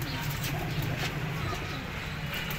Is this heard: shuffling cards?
no